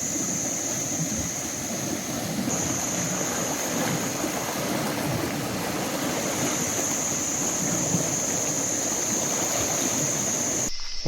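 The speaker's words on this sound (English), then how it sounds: "just seeing where the creek's at. It's up pretty high." A creek running high after rain on a rural property, heard as a steady broadband rush of flowing water, close and continuous with no talk, cutting off abruptly at the end.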